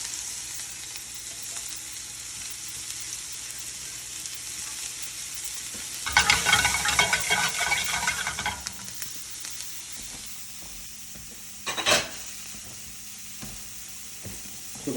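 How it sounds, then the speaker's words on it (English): Mushrooms and shallots hit a hot pan holding browned steak fond for Steak Diane, a steady sizzle that swells into a loud, crackling burst midway, with occasional stirring and a brief flare of frying later. "we're going to put the mushrooms and the shallots in together"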